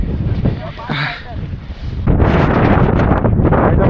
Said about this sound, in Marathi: मध्येच जोरात वारा येतोय, मध्ये स्लो येतोय